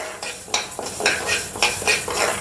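Sesame seeds are roasted in a pan with a spoon for mango avakaya pickle, giving about eight rhythmic scraping and stirring strokes over a soft sizzle, close and clear, with no voices.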